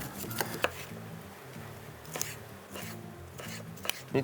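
Knife slicing onions on a cutting board for a chicken and vegetable dish, a series of crisp close taps and scrapes in uneven bursts, with a faint voice and low hum in the background.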